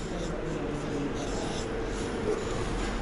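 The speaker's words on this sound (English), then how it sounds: "So I'm going to write the word read." Pen scratching out a word by hand on paper, a steady soft rubbing and scraping close up, low and continuous under a faint background hum.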